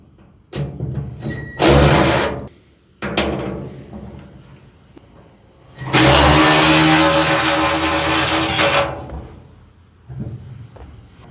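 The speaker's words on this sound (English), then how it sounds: "so we're going to use a ratchet because it's pretty far down there" A flex head ratchet loosening a 7/16 lock nut deep inside a wood chipper: two long bursts of rapid loud ratcheting clicks, close up, separated by quieter gaps, with no talk.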